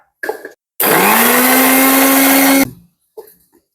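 A mixer grinder grinds hair treatment ingredients in one loud, steady burst of nearly two seconds, its motor whine rising at the start and cutting off sharply, with brief faint sounds before and after.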